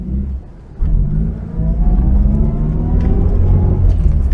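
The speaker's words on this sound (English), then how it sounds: "Lovely gear whine, and that's what I really want people to experience." An Austin 1300GT being driven, its engine rumble and tyre roar steady from the inside, with a faint rising gear whine laid over the drone throughout.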